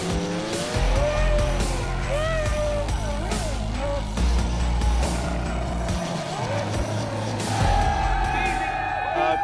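A Red Bull Formula One car doing donuts at a street demonstration in Delhi, India, its engine screaming and revving up and down with tyre squeal and skidding, loud and close throughout.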